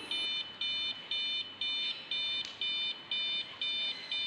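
A flood warning siren's buzzer sounds in a steady series of eight or nine short, shrill electronic beeps, evenly spaced and moderately loud, with nothing else heard.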